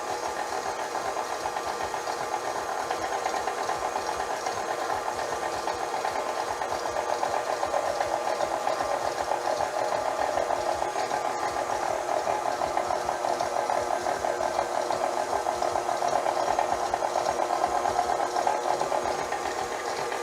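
An electric stand mixer runs on slow speed while a liquid sugar mixture is added for espresso butter brownies, giving a steady, moderately loud motor whir with a low rattling texture throughout and no talking.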